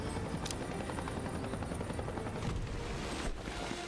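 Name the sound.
helicopter arriving in a video game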